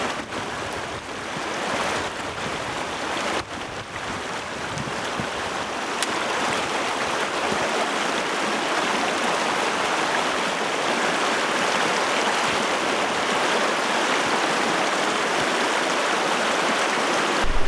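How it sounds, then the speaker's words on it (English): The Cairn River at a trail crossing on Jasper's South Boundary Trail, a continuous close rush of flowing water that grows slightly louder partway through, with no voices. "So this is a crossing of the Cairn River."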